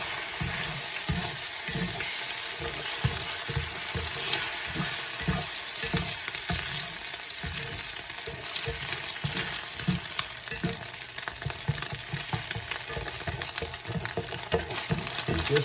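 Eggs being scrambled in a frying pan with a splash of whipped cream, a steady close sizzle running throughout with repeated soft scraping stir strokes in an irregular rhythm, no voices.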